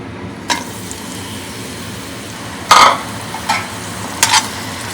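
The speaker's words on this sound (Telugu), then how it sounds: "ఇలా ప్యాన్లో వేసుకొని చిన్నగా కలుపుతూ ఫ్రై చేసుకోవాలి" Paneer pieces fry in hot oil in a pan, a steady soft sizzle with a few sharp scraping stirs and clatters standing out near the end.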